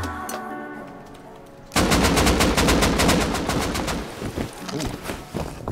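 Gunfire in the survival game Rust during a swamp battle: after a quieter lead-in, a sudden loud barrage of rapid, close shots rattles on, thinning into scattered single bangs.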